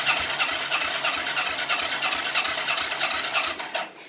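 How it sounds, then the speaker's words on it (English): A 1996 Suzuki Quad Runner 250 ATV engine held at wide-open throttle, suspected of needing piston rings, gives a loud, steady buzzing roar with regular low thumps, then cuts off abruptly just before the end. "Alright, so we got the throttle wide open."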